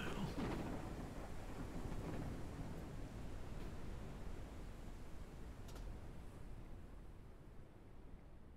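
A thunderstorm in the open-world survival game Forever Skies: a steady broadband roar of rain and wind with low rumbling thunder, loud at first and slowly easing, with no speech.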